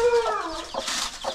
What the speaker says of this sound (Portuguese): Então, são um total de 5 pintinhos agora.